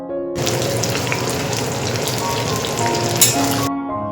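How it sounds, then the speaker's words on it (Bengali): Potatoes and onions frying in a wok with tempered spices, a dense continuous sizzle and crackle, close and loud, with no talk over it. "এবার একটা কড়াইয়ের মধ্যে একটু ফোড়ন দিলাম, দিয়ে সাথে আলু আর পেঁয়াজ একসাথে দিয়ে একটুখানি"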